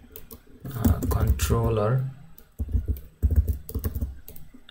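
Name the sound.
typing code on a computer keyboard in IntelliJ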